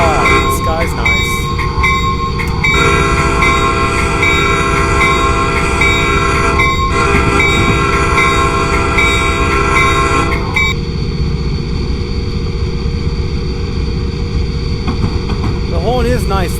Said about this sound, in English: The horn is nice, though.